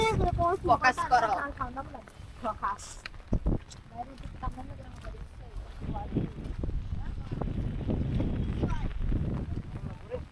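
Wind blows across floodwater near a small boat in rural Cumilla, Bangladesh, a low steady rush and microphone buffeting beneath people speaking nearby, with occasional knocks and splashes.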